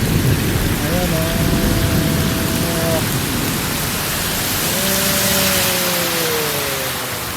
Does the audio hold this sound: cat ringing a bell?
no